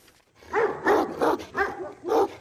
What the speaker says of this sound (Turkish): başıboş köpeklerin saldırısına uğradı